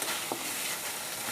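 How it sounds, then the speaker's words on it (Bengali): Fried potatoes being stirred with spice masala in a pan give off a close, even sizzle, with one short scrape of a spoon early on before the sound cuts off abruptly. "আলুটার সাথে এখন আমি মশলাটাকে আর একটু কষিয়ে নেব"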